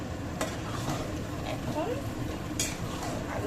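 Mutton with spices being stirred in a pot for rezala, a close continuous low rumble of simmering with a few sharp utensil clinks against the pot.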